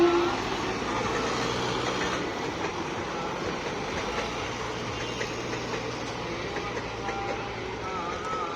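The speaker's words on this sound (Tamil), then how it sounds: "ரொம்ப நாள் ஆச்சு ஃப்ரெண்ட்ஸ் ட்ரெயின் வந்து பக்கத்தில் இருந்து பார்த்து." A train rolls past close by at a railway crossing, a steady broadband rumble with faint wheel clatter throughout, loud and continuous from start to finish.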